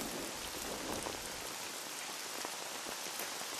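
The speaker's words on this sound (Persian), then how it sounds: "زیر این بارون." Rain patters down without a break, a soft, close hiss scattered with individual drops striking a surface, with no one speaking.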